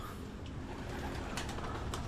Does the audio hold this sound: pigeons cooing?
yes